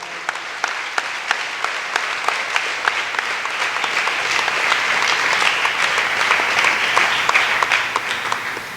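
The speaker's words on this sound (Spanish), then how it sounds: "Apláudele si le va a aplaudir." A church congregation applauding during a sermon, steady and full clapping from a crowd with a few sharp claps standing out, lasting throughout at an even, fairly loud level.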